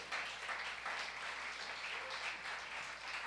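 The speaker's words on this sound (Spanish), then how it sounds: "Ese aplauso está, como dicen en el llano, aguao." Church congregation applauding during a sermon, a soft, subdued wash of clapping heard from a distance, steady and thin throughout with no voices on top.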